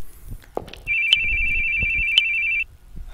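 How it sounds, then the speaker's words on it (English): A phone rings in the horror video game The Boogie Man, a single steady electronic trill lasting nearly two seconds, loud and close, between faint footsteps and room noise. "Getting scared by that phone."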